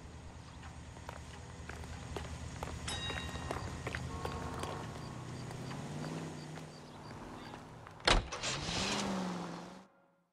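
A car driving in the L.A. Noire video game: a low engine hum under assorted game effects and clicks, then a sharp knock and a brief louder rumble before the sound cuts out.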